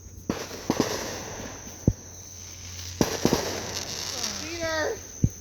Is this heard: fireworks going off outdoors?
yes